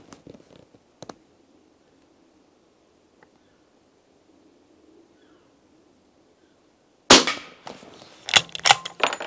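A suppressed WW2 De Lisle carbine fires with quiet, muffled reports: a few soft clicks and thumps early on, a long near-silent gap, then a sharp, louder burst of mechanical clatter and impact noise toward the end.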